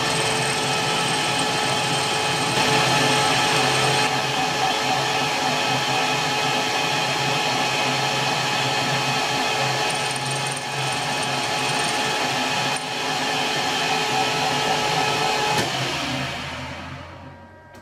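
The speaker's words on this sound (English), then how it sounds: "we'll just machine up the head end now." A machine tool cuts the head end of a Kant twist clamp in a workshop, a steady loud whirring and grinding with tonal whine that runs continuously before winding down at the end.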